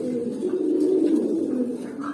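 A pigeon coos steadily at close range, a low continuous rolling call lasting about two seconds with no talk over it.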